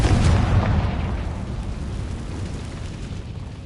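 A Confringo fire spell blasts in Hogwarts Legacy, a loud booming explosion that hits at once and then rumbles away over a few seconds, with no voices.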